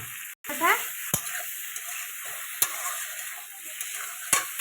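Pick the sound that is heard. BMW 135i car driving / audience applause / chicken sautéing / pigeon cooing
chicken sautéing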